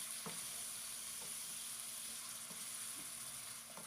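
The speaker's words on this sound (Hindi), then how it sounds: "और अब हम इसमें ऐड कर लेंगे टमाटरों को भी हम अच्छी तरह से मिक्स कर लेंगे" Tomatoes are stirred into a sizzling mutton karahi. A faint, steady frying hiss is broken by a few soft, sparse scrapes.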